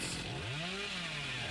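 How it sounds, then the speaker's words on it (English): A chainsaw in a video game, heard as a low, faint engine drone that rises and falls in pitch in a single revving sweep. No speech is heard. "Chainsaw."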